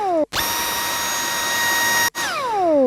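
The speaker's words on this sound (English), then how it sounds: "the best bass source I could find from my sample list was the Dyson vacuum cleaner, which has had a fantastic low-end tail." A Dyson vacuum cleaner whirs with a steady, strong motor tone, pitched down into a deep sustained drone with a low-end tail, starting abruptly, cutting out briefly near the end, then winding down with falling pitch.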